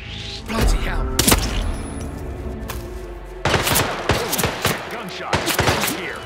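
Bursts of gunfire in the video game Hitman 3 on the Dartmoor level, several loud broadband shots and rapid volleys with thuds, spaced irregularly across the stretch and heavier in the second half.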